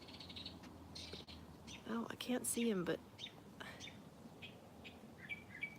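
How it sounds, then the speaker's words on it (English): A bird sings outdoors during a walk with a cat, bright chirps and trilling phrases rising over quiet ambience at mid-distance, with someone talking softly around it. "can you hear that bird?"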